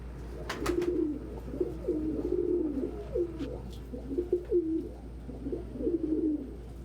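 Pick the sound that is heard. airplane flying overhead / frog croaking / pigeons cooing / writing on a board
pigeons cooing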